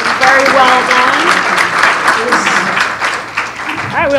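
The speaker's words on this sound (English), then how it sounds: "Let's give them one last round of applause." Audience gives a final round of applause for a conference panel, steady clapping throughout with voices talking and calling out over it.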